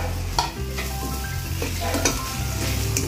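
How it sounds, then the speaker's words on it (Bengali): Grated coconut frying with spices in a pan, a close, steady sizzle with a few sharp spoon scrapes and knocks as the mixture is stirred. "এটা দিয়ে এখন ভেজে নেব।"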